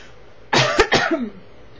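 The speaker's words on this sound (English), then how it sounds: "I'm going to cough again" A single short burst of coughing, two or three harsh close-up hacks in quick succession, then quiet.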